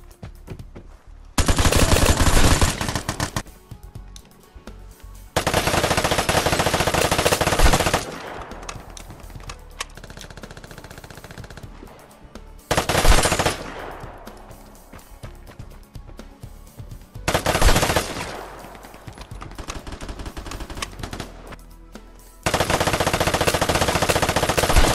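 Gunfire in the survival shooter Vigor, several long loud bursts of rapid automatic fire separated by quieter gaps with scattered shots and ambient noise.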